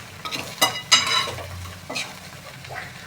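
Susla, puffed rice, is stirred and fried in a pan with gram flour powder and coriander, giving close scraping and clinking strokes of a spoon over a low, steady sizzle, with no talking.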